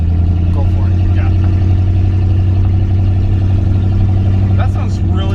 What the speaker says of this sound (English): That sounds really good at just like light throttle. Oh, yeah. It's so burbly.